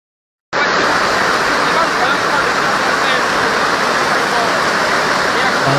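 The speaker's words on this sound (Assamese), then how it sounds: "বানৰ প্ৰৱাহ ধাৰাসাৰ বৰষুণ বন্ধুসকল আৰু ধাৰাসাৰ বানপানী ইয়াত" Flood water rushing during heavy monsoon rain in Assam, a loud, dense roar of flowing water that starts abruptly after a brief silence and holds steady.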